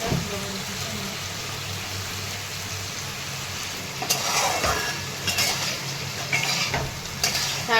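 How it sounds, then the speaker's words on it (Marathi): Tender cluster beans (gavar) sautéing with garlic in a pan, a loud steady sizzle punctuated by bursts of stirring scrapes toward the end. "आणि परतून घेतो एकदम कवळ्या आणि लुसलुशीत छान"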